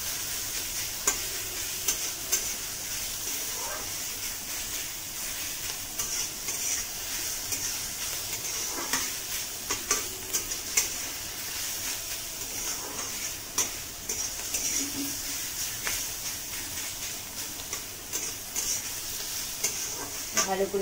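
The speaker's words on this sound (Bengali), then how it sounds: "ভালো করে পুরটা ভেজে নেব।" Vegetable stuffing for idli frying and being stirred in a pan, a steady close sizzle with scattered scraping clicks from the spoon, continuous and moderately loud with no voices.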